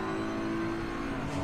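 Race car engines in a sim racing game at the Nürburgring give a steady, sustained drone at moderate volume with no clear gear changes.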